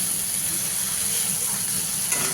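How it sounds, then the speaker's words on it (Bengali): Ginger and cumin frying in a pan for a green papaya curry, a steady soft hiss and sizzle running without a break at moderate level, with no voices. "তো আদা জিরেটা আমি কিন্তু ভালো করে কষিয়ে নিচ্ছি।"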